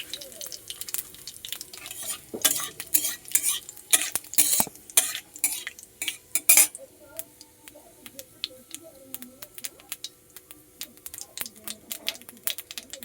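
Whole dried red chilli and cumin seeds frying in hot oil for a vegetarian fenugreek, cashew and green banana curry, giving close bursts of crackling and sizzling with clinks of a utensil, easing to a softer steady fry.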